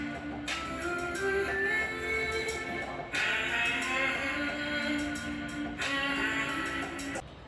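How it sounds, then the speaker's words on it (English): Music with steady tones and bright highs plays through the right speaker of an ASUS TUF Gaming F15 laptop, continuous and fairly even in level, with brief shifts in the pattern; no talking. "And this is the sound of right speaker."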